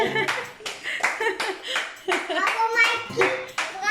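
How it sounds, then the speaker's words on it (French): A child claps hands in a quick, uneven series of close, sharp claps at home, with a young voice chattering between them. "tu l'applaudis maman?"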